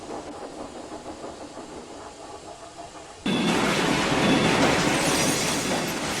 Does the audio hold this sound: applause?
no